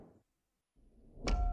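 A door swings open in the horror game Dark Hotel, a sudden bright creaking clunk with a ringing tone after a low rumble, loud and close.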